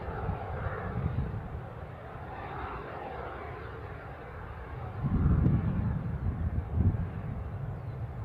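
An aircraft at Newcastle International airport rumbles from a distance through wind, its engine roar swelling louder and lower toward the end.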